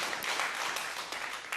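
A short stretch of continuous clapping from a small group on a football talk show, steady and moderately quiet with no voices over it.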